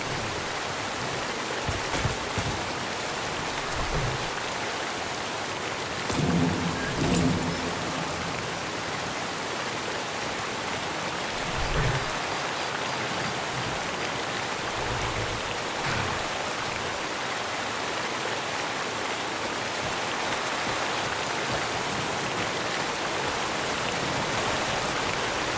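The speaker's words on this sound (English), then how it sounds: "I find the rain relaxing." Steady rain pours in the Skyrim video game, a dense even hiss with a few soft low rumbles of distant thunder, continuous and moderately quiet throughout.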